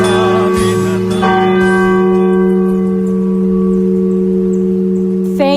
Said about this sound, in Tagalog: Kampana ng simbahan ay nanggigising na at waring nagsasabi na